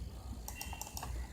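A password entered on a computer keyboard during a VMware ESXi login, a few quiet, quick key clicks over a faint room hum, with no talking.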